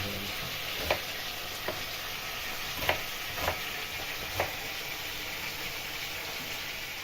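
Meat with onion fries in a pan for homemade Ukrainian-style pilaf, a soft continuous sizzle broken by a few sharp scrapes and knocks as it is stirred.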